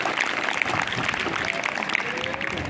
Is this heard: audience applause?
yes